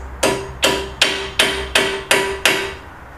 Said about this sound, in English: Take your hammer, and you're just going to gently tap the back side of the pin